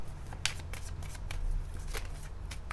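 Oracle cards being shuffled for a love reading, a steady run of papery riffling and soft slaps continuing throughout with no voice, over a low background hum.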